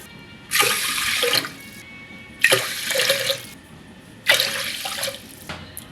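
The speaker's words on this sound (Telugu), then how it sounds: "ఇప్పుడు దీనిలో 4 గ్లాసులు వాటర్ వేద్దాం." Water is poured three times into a pressure cooker pot holding rice for sambar rice, each pour a splashy gush of about a second with short gaps between, close and fairly quiet with no talking.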